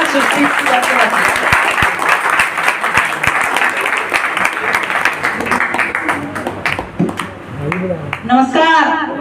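Audience applause and clapping for Mr. Rahman at an RCM business celebration program, a dense, sustained burst of many hands that thins out toward the end as voices and a cheer come through.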